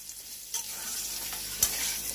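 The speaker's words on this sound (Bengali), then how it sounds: "আর অল্প হাফ টিস্পুন নুন দিয়ে আলুটাকে লাল লাল করে ভেজে নিচ্ছি।" Potatoes frying with turmeric and salt in a pan sizzle steadily and close, with two brief stirring scrapes, no talking.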